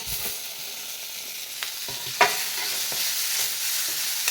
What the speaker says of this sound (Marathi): टोमॅटोसुद्धा दोन तीन मिनिट या मसाल्यात परतून घ्यायचा आहे